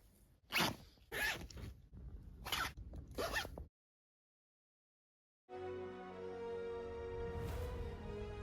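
A zipper on the ankle of a Spider-Man suit rasps in several quick pulls, then stops. After a silent gap comes a steadier sustained rasp, close and clear, with no voices.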